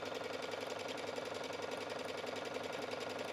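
Sewing machine stitching a seam in bias-cut skirt fabric, a fast, even, faint mechanical whirring hum that runs without a break.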